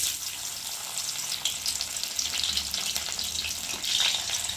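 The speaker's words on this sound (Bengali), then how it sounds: "তেলের মধ্যে আমি এখন দিয়ে দেবো তেজপাতা, আর দেবো কাজু কিশমিশ" Bay leaf, cashews and raisins frying in hot oil in a wok, a soft continuous crackling sizzle, fairly quiet and close, swelling slightly toward the end.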